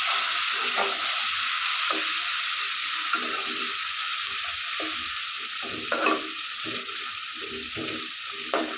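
A paste of turmeric, chili, ginger, cumin and garlic frying in a pan, a bright continuous sizzle with a soft periodic scraping of stirring repeating every second or so.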